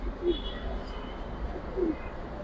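Two soft, low coos from Giribaz pigeons in a cage sound close by over a steady background hum.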